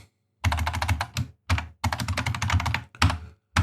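Computer keyboard keys clatter in rapid bursts of close, crisp typing, separated by short pauses, with no voices over it.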